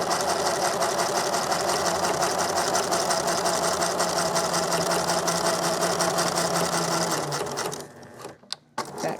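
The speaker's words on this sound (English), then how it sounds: "and then I'm going to sew forward." A sewing machine stitches a half square triangle quilt block with a fast, steady, close whirring hum that runs continuously and then stops with a few clicks near the end.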